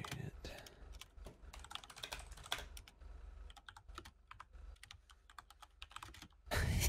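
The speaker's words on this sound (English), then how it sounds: "His keyboard is so loud." Rapid, loud clacking of a computer keyboard during a GTA V roleplay session, keys struck in dense irregular bursts close to the microphone with a voice murmuring faintly underneath.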